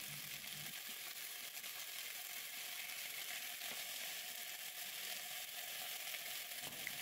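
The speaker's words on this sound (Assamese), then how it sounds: "মচুৰ দাইলখিনিও একেলগতে দি ভাজি লৈছোঁ" Fiddlehead fern fries in oil with onion, ginger, garlic and green chilli, with lentils added, giving a quiet, steady sizzle with no voices.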